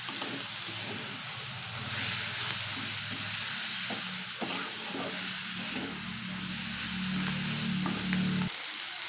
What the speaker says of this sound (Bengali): এইভাবে বেশ কিছুক্ষণ একটু ভেজে নিতে হবে যাতে ঝুনঝুনে পাতাটা একটু নরম হয়ে আসে